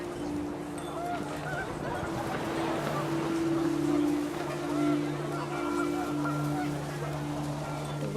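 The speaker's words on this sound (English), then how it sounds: "The wind picked up, and panicked geese appeared and quickly went." Geese honk in a windy scene from the video game What Remains of Edith Finch, with overlapping calls over a steady low ambient drone and wind.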